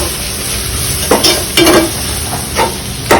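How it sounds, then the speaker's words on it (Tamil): Tomatoes stirred into sizzling masala in a pan for mango fish gravy: steady frying hiss with several scraping, clattering stirring strokes in bursts, close and fairly loud, with no talking. "தக்காளி ஆட் பண்ணியாச்சு, நல்லா மிக்ஸ் பண்ணி கொடுத்துடலாம்."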